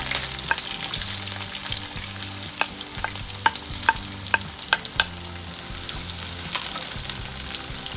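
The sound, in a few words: fennel, onion and green chillies frying in oil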